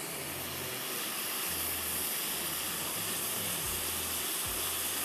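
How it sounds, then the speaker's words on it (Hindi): Red onion hitting a tablespoon of hot oil in a pan for Mahey Kaliya, a steady broad hiss and sizzle with a low hum underneath, close and continuous, no talking. "अब इसमें जा रही है लाल प्याज"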